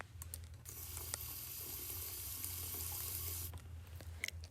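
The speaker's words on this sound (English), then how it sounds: "Faucet." A faucet runs steadily, pouring water in a continuous splashing stream that stops near the end, with small clicks before and after.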